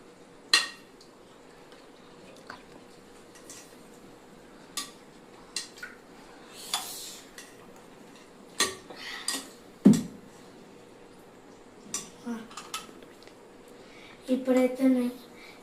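A spoon stirs turmeric into food in a metal pot, with scattered scrapes and clinks against the pot walls spread over several seconds amid faint room hum, and a louder clatter near the end.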